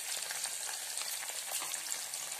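Tadka of dried red chillies, curry leaves, coriander and asafoetida sizzles in hot oil, a close, steady crackling hiss with no pauses and no voices.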